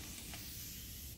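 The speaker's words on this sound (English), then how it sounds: "any spray bottle to mist their hair." A water spray bottle mists damp hair in a short, steady hiss up close, one sustained burst that fades out at the end.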